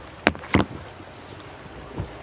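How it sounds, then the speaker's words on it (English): A rower working two oars with one hand makes two quick oar strokes that splash and knock close by, then a softer third stroke, over a faint steady wind hiss on open water. "I'm rowing 2 oars with 1 hand right now"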